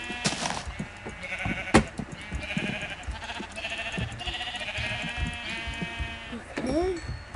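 Minecraft sheep bleat several times in wavering calls, loud and near, spread through the clip, with a person talking quietly in the background.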